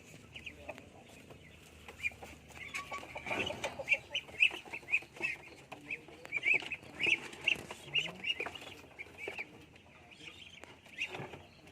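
Muscovy ducks on a farm, heard as scattered short calls and clucking-like bursts repeating through the scene, moderately near, over a steady hum of farmyard background noise with no talking.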